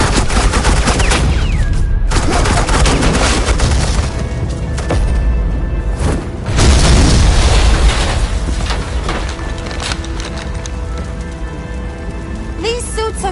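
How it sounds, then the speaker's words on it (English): Suppressing gunfire from agents in the Batman: The Enemy Within video game, a dense, continuous rattle of shots mixed with game sound effects and a voice over it. "Suppressing fire."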